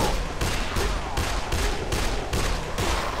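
Rapid bursts of automatic gunfire in the zombie video game Dead Island, about seven loud, evenly spaced volleys rattling continuously with no talk.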